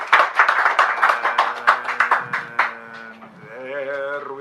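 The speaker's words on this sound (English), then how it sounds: "We'll honor her with a nice round of applause." An audience at a sacred poetry reading event claps in a short round of applause, with dense rapid hand claps for about three seconds that fade into a sustained tonal sound.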